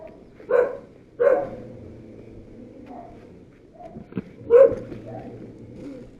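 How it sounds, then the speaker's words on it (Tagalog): A few sharp dog barks ring out close by, spaced apart with quiet gaps and low background noise between them. "Mga aso."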